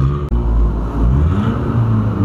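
A Volkswagen Gol fitted with an exhaust diffuser revs hard nearby, a loud, deep engine rumble that holds steady through the whole stretch with no talking over it.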